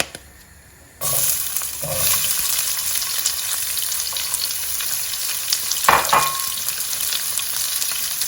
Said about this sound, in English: I'm just going to add the onion that we chopped up